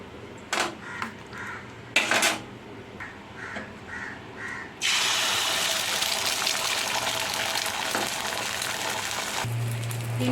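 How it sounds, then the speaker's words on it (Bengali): An egg frying in hot oil in a wok on a gas stove for an egg curry: a few light clinks come first, then a loud, steady sizzle bursts in and continues to the end. "এবার আমি ডিমটাকে ভেজে নেব।"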